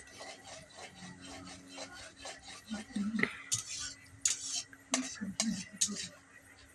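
Mung dal stirred and fried in a pan, heard as quiet, irregular scraping and rubbing strokes of a utensil against the pan, close by, with faint clinks and a murmur of speech.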